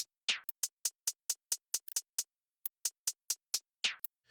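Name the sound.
hip-hop hi-hats panned fully to the right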